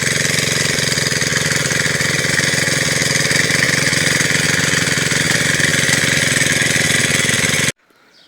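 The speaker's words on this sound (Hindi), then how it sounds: "तो दोस्तों हमने पूरी ज़मीन में ट्रैक्टर लगा दिया, पूरी ज़मीन को ट्रैक्टर लगा दिया" A tractor engine runs steadily while ploughing a hillside field, a loud, close, continuous diesel rumble with a knocking rhythm, cutting out sharply near the end.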